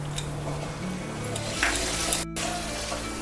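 Spiced paste sizzling in a pan as onion paste goes in, for a Bengali-style chicken kosha, with a low frying hiss, a brief clatter and a few stirring scrapes, no talk.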